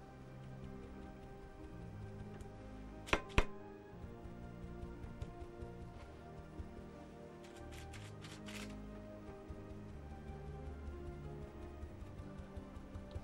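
A sponge turned to its coarse underside dabs paint onto glass. Quiet, irregular soft taps and pats are heard, with a few sharper clicks in short clusters over a low background.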